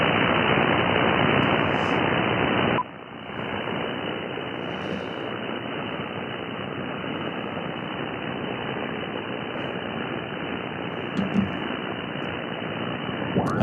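Loud, dense hiss of static fills the 40 meter amateur radio band, steady and unbroken, dropping slightly in level after a few seconds.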